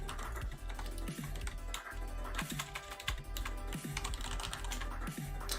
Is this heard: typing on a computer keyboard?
yes